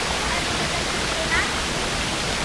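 Amatong waterfall at Sitio Piit, Batangas City, roars as a steady, dense rush of falling water that fills the whole clip at an even loudness.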